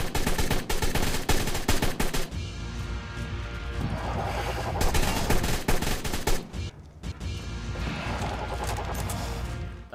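Rapid bursts of automatic gunfire in Ark: Survival Evolved on Xbox One, loud and dense, with dense rattling volleys in the first seconds, then sustained firing and clatter carrying through the rest.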